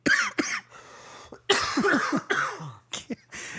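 Repeated coughing fits close to the listener, harsh bursts separated by short pauses, several hacking coughs in a row.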